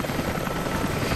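Steady, loud helicopter rotor drone from the Rise of the Tomb Raider video game, a dense continuous whir filling the moment with no talk.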